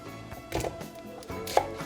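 A kitchen knife cuts through an onion on a board in a few quick, close, crisp chops spaced over under two seconds, with no voices.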